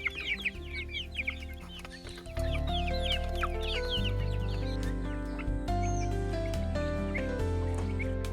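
Chickens cluck busily at a pig farm in Kokrajhar, with a cluster of quick, close calls at first, then scattered clucks over a steady tonal hum that fills the rest of the clip.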